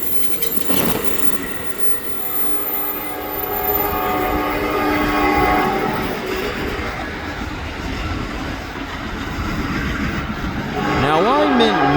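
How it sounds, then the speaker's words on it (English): A passenger train rolls past outdoors at a station, a loud sustained rumble of wheels and cars with squealing wheels and a sweeping tone near the end. A person talks over it. "let's watch this train disappear as it makes its way eastward"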